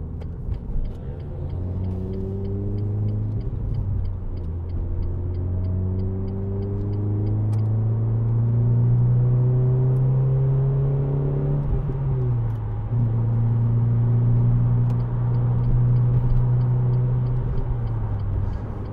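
A 2010 Renault Clio Renaultsport 3-door with a 2.0 VVT four-cylinder pulls hard through the gears, its engine note climbing in long, steady revving sweeps with brief drops at the shifts and constant loud road rumble underneath.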